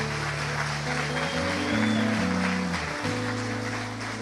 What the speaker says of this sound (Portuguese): Você consegue aplaudir aí?